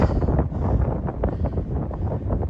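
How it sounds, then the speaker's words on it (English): Strong, cold wind gusting on a high mountain trail between Plum Orchard Gap and Standing Indian shelters, buffeting the microphone as a loud, continuous rumbling roar with no talking. "The wind is whipping."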